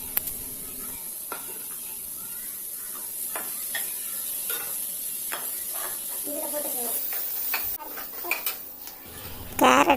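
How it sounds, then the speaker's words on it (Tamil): Beans and carrots sauté in a pan for egg fried rice, a soft sizzle broken by repeated scraping and clinking stirs of a utensil against the pan, louder at the end. "இப்போ இந்த பீன்ஸு, கேரட்டு இதையும் சேர்த்து இதுவும் கொஞ்சம் நேரம் வதங்கட்டும்."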